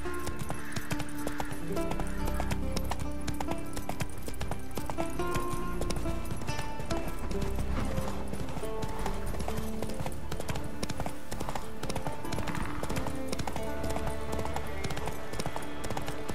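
Galloping horse from the video game The Witcher 3: Wild Hunt, with a steady fast clip-clop of hooves throughout, loud and continuous over game music and ambience, with a brief whinny.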